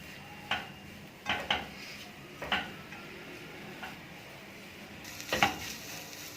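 Chicken paratha filling being mixed in a pan, with soft intermittent clinks and scrapes of a spoon against metal at a steady pace over a faint sizzle, fairly quiet.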